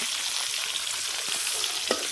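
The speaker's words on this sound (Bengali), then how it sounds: "এদিকে মাছ ভাজা চলছে সুন্দর করে ভেজে নিই" Fish sizzles steadily in a hot pan, frying for a yogurt fish curry at an outdoor cooking spot in a jungle, with a constant bright crackle and a few soft stirring clinks.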